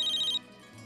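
A telephone rings with a short, bright, rapidly pulsing electronic trill lasting under half a second before cutting off, leaving quiet room tone.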